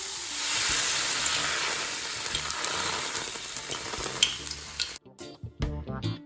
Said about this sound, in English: I'm gonna add my coconut milk to this.